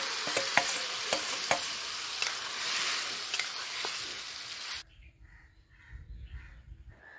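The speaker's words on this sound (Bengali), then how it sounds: "মেখে রাখা আলুটা দিয়ে দেবো।" Marinated new potatoes hit a hot pan for Kashmiri-style aloo dum, sizzling and frying loudly with stirring scrapes and clicks, then the sound cuts to a quiet room with a faint low rumble.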